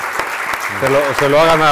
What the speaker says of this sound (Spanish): Primero, creo que se merece Javier su aplauso.